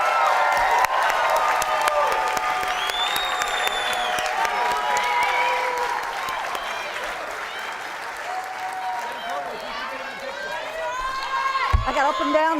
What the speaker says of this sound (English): now can give them all your applause.